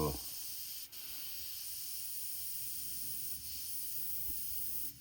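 A Harder & Steenbeck Ultra airbrush sprays thin lines and small dots with a soft, steady hiss of air, quiet and close, broken by two brief dips in the flow.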